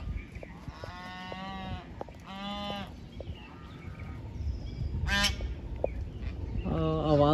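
Ducks at a pond in Sanjay Van, New Delhi, give a series of loud, nasal honking quacks in short bursts, close by, over a low outdoor background.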